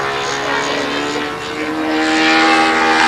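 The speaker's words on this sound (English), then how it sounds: "Well, it looks like a good flying plane to me." A model airplane flies at a windy world championship, its engine a loud, steady buzzing drone that dips briefly and then swells again, close and continuous.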